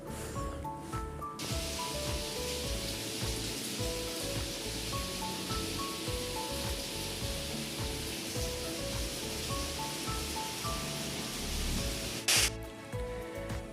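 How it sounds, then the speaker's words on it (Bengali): Steady afternoon rain falling continuously, a broad even hiss close by that carries on unbroken for over ten seconds, with faint tonal background sounds and no talking. "কিন্তু বিকেলে দেখো কেমন বৃষ্টি পড়ছে"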